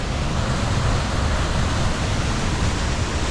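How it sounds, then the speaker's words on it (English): A waterfall on a snowy Bear Creek hike, heard as a steady, dense rush of falling water that stays even and continuous throughout, close by with no voices. "That is a beautiful waterfall."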